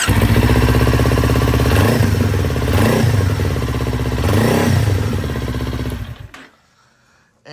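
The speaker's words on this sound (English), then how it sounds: "the bike runs phenomenally" Kawasaki Ninja 400 motorcycle engine running up close, a loud continuous rumble with a few rising and falling revs, then cutting off abruptly near the end.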